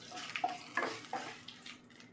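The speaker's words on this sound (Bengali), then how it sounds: "আমি একটা কড়াতে তেল বসিয়েছি, তেলে কিছু গোটা মশলা দেবো।" Whole cumin, dried red chillies and black pepper frying in oil in a wok for a Bengali prawn curry, a soft sizzle with a few stirring scrapes, faint and close.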